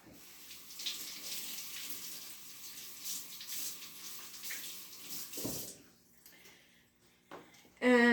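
Tap water runs steadily into a sink as celery sticks are washed beneath it, a soft continuous splashing that stops after about five seconds, followed by a few faint clinks and a louder knock.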